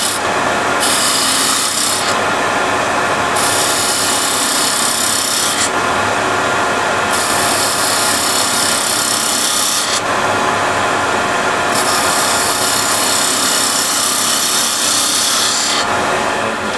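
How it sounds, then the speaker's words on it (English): Hand sanding of a wooden piece with 180 grit sandpaper. A loud, close, continuous rasping comes in back-and-forth strokes that shift in brightness as the pressure changes, with no talking. "just with a little bit of 180 I'll sand the top as well"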